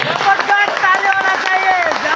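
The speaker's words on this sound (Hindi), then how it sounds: "मैडम के लिए जबरदस्त ताली होना चाहिए।" Applause from an audience at a company class in New Delhi, a steady dense patter of many hands clapping close by for the full length, with voices mixed in.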